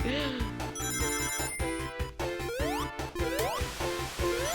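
A purchased phone ringtone plays loud and close, a bright electronic melody of rapid repeating notes and rising sweeps, with chopped rhythmic pulses running continuously.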